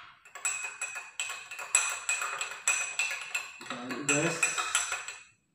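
A metal spoon stirs vitamin C in a glass of water, clinking against the glass in quick repeated ringing taps with a steady rhythm, up close, while a voice speaks briefly.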